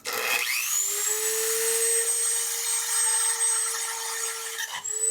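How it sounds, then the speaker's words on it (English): A small high-pitched power drill whines steadily for several seconds while drilling a hole in a plastic Christmas ornament, briefly dipping near the end before spinning up again. "I'm going to quick drill a hole."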